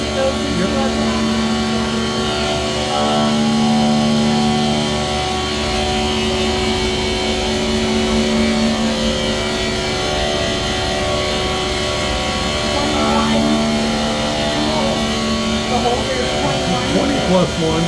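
Spindle of a Fadal vertical machining center running at 4,500 RPM, a steady loud tonal whine with harmonics throughout, with people talking faintly at times under it.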